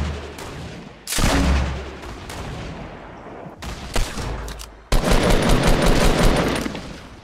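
Fortnite gunfire crackles in dense automatic bursts, close and loud, with a quieter pause in the middle before another sustained volley.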